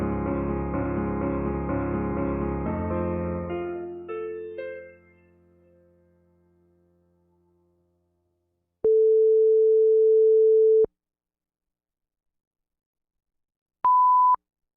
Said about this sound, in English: We'll have a long tone at 10 seconds before, followed by a short one at 5 seconds.